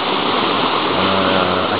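Muddy river swollen after rain, its turbid water rushing in a continuous loud, close wash of churning flow with no voices.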